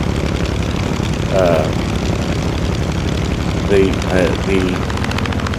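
A steady propeller engine of an F6F Hellcat fighter plane in Microsoft Flight Simulator 2020 drones loudly and continuously, with a voice briefly heard over it.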